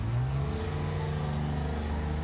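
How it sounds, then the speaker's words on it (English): Car engine humming steadily as the car drives off, a low continuous drone at moderate distance with no other sounds. "I hear a car driving off."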